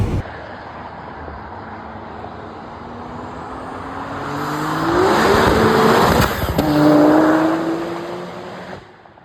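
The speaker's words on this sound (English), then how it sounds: "the GTT's on the dyno" A high-horsepower GTT car runs on a dyno, its engine droning steadily and then climbing in pitch as the revs build to a loud, sustained roar before cutting off.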